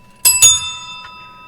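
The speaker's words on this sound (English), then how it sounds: "we ring the bell" A bell is rung twice in quick succession as a signal, two bright ringing strikes close together followed by a fainter third tap, the metallic tone lingering and decaying, loud and close with no talk over it.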